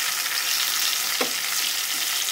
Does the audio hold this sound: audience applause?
no